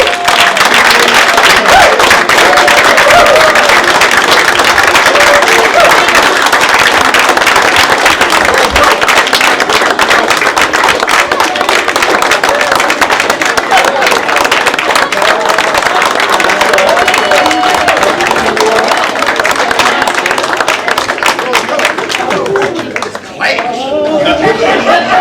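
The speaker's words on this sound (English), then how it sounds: "Why don't all you graduates go up so we can give you a round of applause." A crowd at a graduation ceremony on Elm Street / Main Street applauds the graduates, with dense, sustained clapping, scattered chuckles and chatter running throughout before it thins out near the end.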